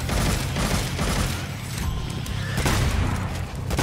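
Continuous heavy gunfire from Devil May Cry 5, loud and dense booming shots blending into a rumbling barrage for the whole stretch.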